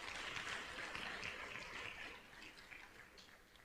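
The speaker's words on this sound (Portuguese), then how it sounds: "Mais forte esse aplauso." A congregation applauding during a church service: a dense, steady wash of many hands clapping together, loud and sustained, easing slightly toward the end.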